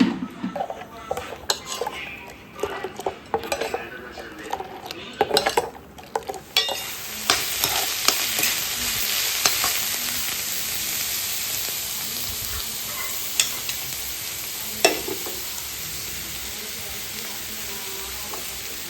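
Fish and crab being stirred in a cooking pan, with scraping utensil clatter and knocks over a steady sizzle of frying that grows louder and denser partway through, no talking.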